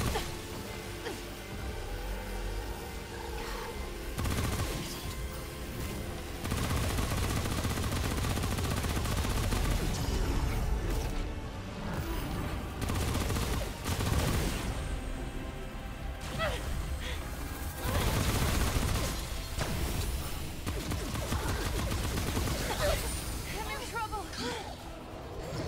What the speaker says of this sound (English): it just gives us the automatic weapon for this